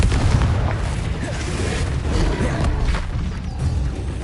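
A Confringo blasting spell in Hogwarts Legacy goes off as a loud, sustained booming explosion, with rumbling bursts rolling on for several seconds and no voices over it.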